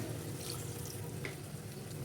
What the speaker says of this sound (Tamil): இப்போது மிக்ஸி ஜாரை அலசி ஒரு 1/2 கப்பு தண்ணி விட்டுருங்க